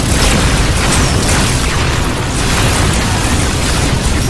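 Torpedo explosions as a movie sound effect in an action film: a dense, continuous roar of booming blasts and rumbling bursts fills the whole stretch at high, steady loudness with no speech.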